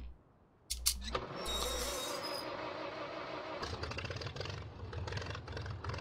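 The McCormick W9 Standard classic tractor from Farming Simulator 19 starts up with a few clunks and a brief rattle, then settles into a low, steady, rhythmic idle chug.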